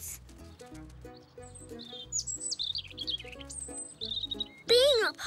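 Cartoon birds in a children's animated series give bright, quick chirps and rising tweets over light background music, with a louder burst of chirping near the end.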